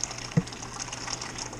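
Hot water runs steadily into strike water for home brewing an IPA, giving a continuous gentle splashing flow with one brief knock early on.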